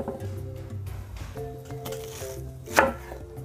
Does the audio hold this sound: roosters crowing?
no